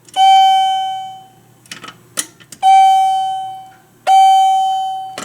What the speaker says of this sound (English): And I slapped a chime on the back.